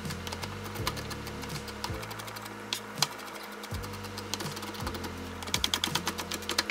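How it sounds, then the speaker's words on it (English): Knife chopping cooked egg whites into tiny pieces on a board: rapid, crisp taps in an uneven rhythm, close and fairly quiet, with a short pause midway and no talk. "And just cut them up into tiny pieces."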